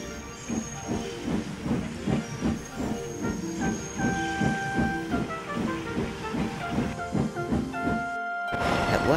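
A cartoon steam engine pulls a train at a slow pace, its rhythmic chuffing puffs and steam hiss steady throughout, with music tones and a brief break near the end.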